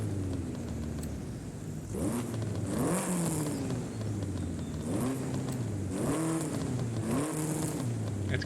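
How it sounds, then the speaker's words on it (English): A supercharged car engine in Forza Horizon 5 revving up and down in repeated surges, its rising whine climbing with each throttle blip, close and fairly loud with no talk. "I'm not a huge fan of the supercharger whine"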